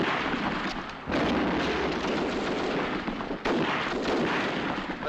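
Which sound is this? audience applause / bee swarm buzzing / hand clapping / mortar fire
mortar fire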